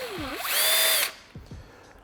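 A cordless drill revs up to a high, steady whine, stops, then gives two quick short bursts close by.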